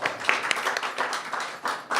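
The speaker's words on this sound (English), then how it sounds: "One more brief and frightening round of applause" A small audience at a literary reading series gives a brief round of applause, a modest patter of claps at moderate distance.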